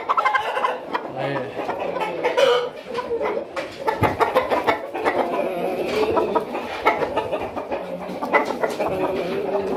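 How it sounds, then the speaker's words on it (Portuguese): Hens cluck and chatter nearby in a busy, continuous stream, with a person talking over them at times. "Aí a galinha aqui, ó."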